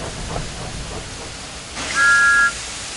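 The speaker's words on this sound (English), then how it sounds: "Thomas likes whistling cheekily at him." Cartoon steam engine gives a single clear whistle, a steady high tone held for about half a second, loud and near over a soft rumbling hiss.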